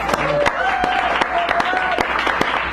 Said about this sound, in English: So give him a nice round of applause as he comes up.